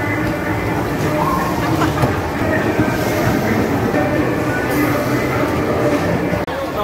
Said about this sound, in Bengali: আমরা বাম্পার কারে বসে গেছি